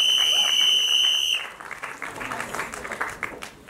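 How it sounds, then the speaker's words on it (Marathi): An audience at the Zapuk Zupuk Marathi film trailer launch claps in a dense, fairly soft burst after a steady electronic buzzer-like tone fades out. "जोरदार टाळ्या आपल्या टॉपच्या किंग साठी आणि टॉपच्या गँग साठी"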